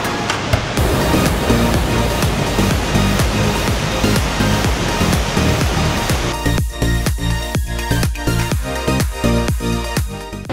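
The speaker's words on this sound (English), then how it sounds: "but I think I hear a waterfall. Sure enough, there it is. Bear Creek Falls." Bear Creek Falls near Telluride, Colorado, a loud, continuous roar of falling water heard up close, with some rhythmic clicking or footsteps emerging in the last few seconds.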